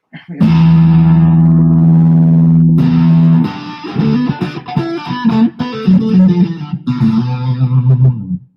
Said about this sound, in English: Let's go for a slightly different tone so I can show off more on what this guitar can do.